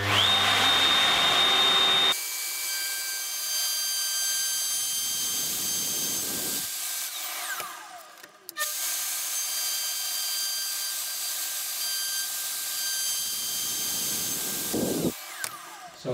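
A power tool cuts a rebate into the edges of birch plywood panels for a banquette, a loud, steady whining drone that drops out briefly midway, then resumes at close range without any speech.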